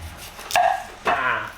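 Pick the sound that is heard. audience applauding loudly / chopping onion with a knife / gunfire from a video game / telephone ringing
chopping onion with a knife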